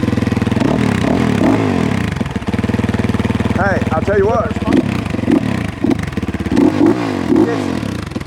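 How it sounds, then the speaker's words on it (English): A loud dirt bike engine with a stock exhaust pipe idles and revs close by at a trailhead with a raspy, throaty exhaust note, while someone talks briefly over it. "Yeah, it sounds great. And that's stock pipe, right? Stock pipe. It's loud for a stock pipe."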